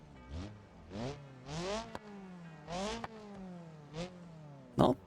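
Car engine in BeamNG idling and revving, a low idle broken by five or six quick throttle blips whose pitch sweeps up then falls back, with a short clatter at the end, moderately loud and alone.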